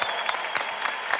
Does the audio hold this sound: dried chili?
no